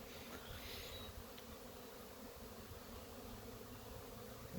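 Honey bees buzzing steadily outdoors before incoming rain, a continuous faint droning hum with no voices.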